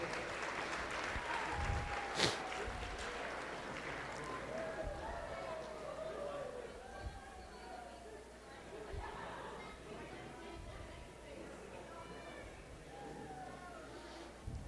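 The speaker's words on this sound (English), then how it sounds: "Give him a big round of applause" Audience applause at an awards banquet after an auction sale, a steady spread of clapping with crowd chatter mixed in, a sharp clap standing out early and the noise settling into a lower, continuous hum of clapping and voices.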